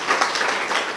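An audience at a girls' education day event in Thiès applauds, a short, steady wash of many hands clapping together, moderately loud and continuous without a break.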